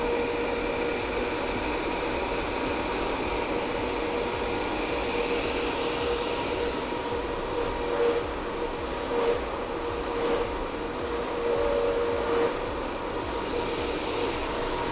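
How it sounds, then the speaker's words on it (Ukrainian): A QuickAir industrial radial fan for round ducts runs steadily, giving a continuous loud airflow rush with a faint tonal hum and small dips in level, alone with no talking. "Ну і отакий поток повітря дає дана модель вентилятора."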